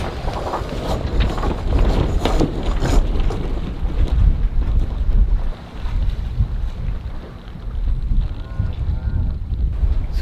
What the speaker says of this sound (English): Sometimes it's quite interesting sailing around the Stockholm archipelago because the islands can change the wind on you